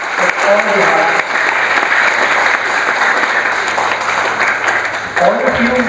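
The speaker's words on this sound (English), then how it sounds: "I think a big round of applause is due for all the hard work." A crowd claps loudly and continuously for students' exhibits at a state-level science and mathematics exhibition, a dense, steady roar of applause filling the room with a slight dip near the end.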